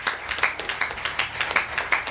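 Audience clapping during a live family program broadcast, with repeated uneven claps pulsing through a steady hum of room noise, moderately near and sustained for the whole stretch.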